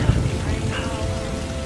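Rain falls steadily in a movie scene, a dense hissing wash of drops that holds for under two seconds with faint low rumble beneath.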